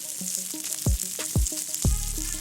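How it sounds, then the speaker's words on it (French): Octopus cooking on a barbecue with a soft crackling sizzle, broken by a few sharp percussive knocks and short tonal scrapes, close and quiet. "On va laisser le poulpe un peu frémir et prendre un peu de couleur et j'écoute comment ça chante"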